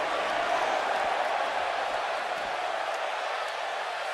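A sold-out arena crowd in a WWE wrestling video game gives off a steady, dense roar of cheering. It stays at an even level throughout, with no voices standing out.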